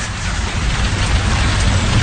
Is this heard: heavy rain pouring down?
yes